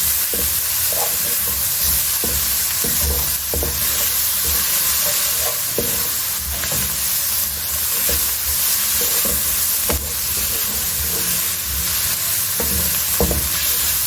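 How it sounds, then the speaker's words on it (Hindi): Steady loud sizzling of onion, ginger and garlic paste frying in a pan, with scattered scraping and stirring clicks throughout, no talking. "आपने इसको अच्छे से फ्राई कर लेना।"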